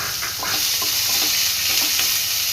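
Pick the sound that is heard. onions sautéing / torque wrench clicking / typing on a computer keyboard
onions sautéing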